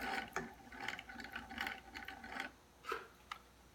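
Husqvarna computerized sewing machine running a single lock stitch, quiet short mechanical clicking and whirring bursts in an uneven series, close and alone.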